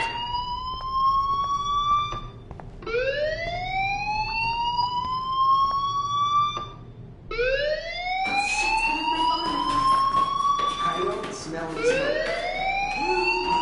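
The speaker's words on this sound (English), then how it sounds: "Hey, do you hear that fire alarm?" A fire alarm in the game Life is Strange wails as a rising siren that sweeps up several times, loud and steady. A voice talks faintly underneath.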